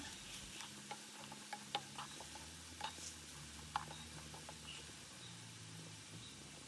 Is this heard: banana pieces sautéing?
yes